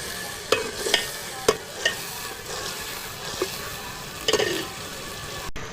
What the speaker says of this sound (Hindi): हरी मिर्च शामिल करने के बाद हम थोड़ा देर इसको हिलाएंगे